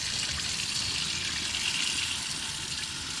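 Cloudy rinse water is poured off washed rice, making a steady, close trickling splash that runs on evenly without pause.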